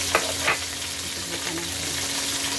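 Food frying in a pan in a home kitchen, a steady broadband hiss of oil running throughout with a couple of brief scraping stir strokes early on, close and moderately loud with no talking.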